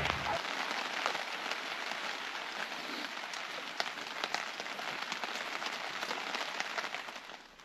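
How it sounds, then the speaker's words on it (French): Steady rain patters on surfaces at a forest campsite, a dense, continuous close hiss of drops with no voices, easing slightly at the very end. "il pleut"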